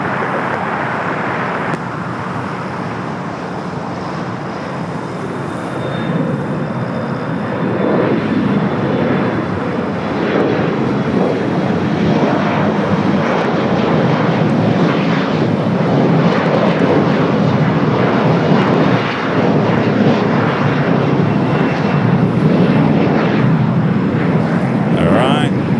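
A jet airliner arriving from Seoul at LAX gives a broad, steady roar that swells and stays loud through the second half, with people talking and radio chatter over it.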